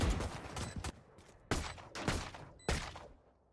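Gunfire from a Valorant esports match comes in three sharp, loud bursts of rapid shots, each fading out before the next, with no speech over it.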